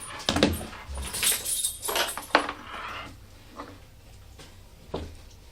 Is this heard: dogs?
yes